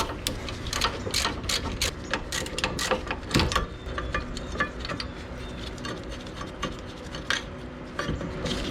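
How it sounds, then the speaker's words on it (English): A 3/8 ratchet clicks in quick repeated bursts, loosening 14 mm rear brake bracket bolts on a 1992-96 Toyota Camry wagon, with metallic rattles and scrapes between the clusters of clicks, close and fairly loud. "so you can probably just get them with a 3/8 ratchet"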